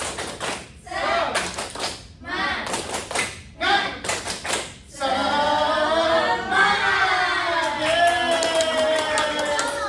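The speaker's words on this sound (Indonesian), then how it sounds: "Lagi 1, 2, 3. Tepuk semangat." A class group in a counselling practice session does a rhythmic spirit clap, tepuk semangat, in bursts of quick patterned claps, followed by a longer stretch of clapping mixed with voices in the room.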